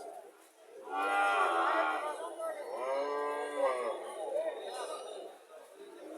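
A Friesian heifer calf at a cattle market in Cumilla, Bangladesh lets out several long, loud moos in close succession, up close, over the murmur of a busy livestock crowd.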